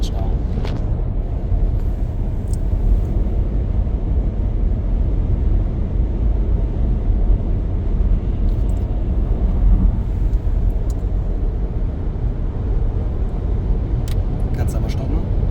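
XPENG P7 electric car cruising at 140 km/h: a steady, fairly loud low rumble of tyre and wind noise that holds even throughout, with no engine note and no talk.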